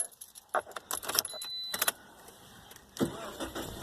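Car keys jangle in the ignition of a vehicle that cranks but will not start, giving several bright metallic clinking bursts in a quiet interior. There is a short pause before one final jingle.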